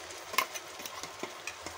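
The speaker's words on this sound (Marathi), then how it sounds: "वाटण चांगलं परतून घ्यायचं तेल सुटेपर्यंत।" Ground masala paste being sautéed in oil over low-to-medium flame: a faint, close sizzle with intermittent spoon scrapes and taps, no voices.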